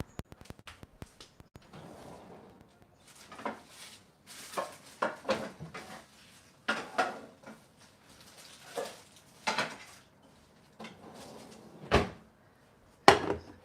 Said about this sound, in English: So I will grab my pan.